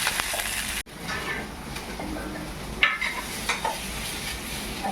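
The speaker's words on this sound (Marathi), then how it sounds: "आता ही चांगली अशी परतत राहायची कमी गॅसवर" Red chillies are stirred and fried in a pan over low gas, with soft continuous sizzling broken by scraping strokes of a spoon against the pan and a brief gap early on.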